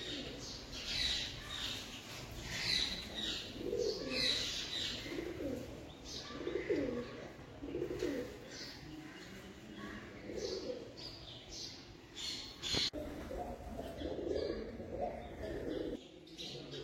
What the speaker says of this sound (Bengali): পাখিদের মিষ্টিমধুর গুঞ্জন সত্যি মনোমুগ্ধকর